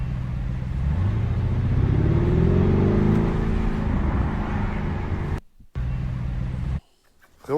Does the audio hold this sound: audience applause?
no